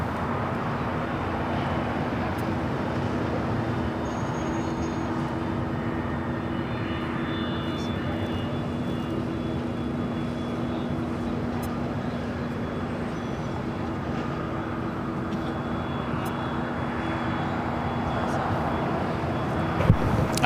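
ANA Boeing 787-9 Dreamliner in Future Promise livery at LAX, bound for Tokyo Narita, producing a steady, even jet engine roar with a constant humming tone, sustained and moderately distant for the full stretch.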